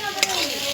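Ginger and garlic sizzle in hot oil in a wok alongside onions, bay leaf and nigella seeds for a fish chachchari. A spatula scrapes through them in one quick stir, loud and close.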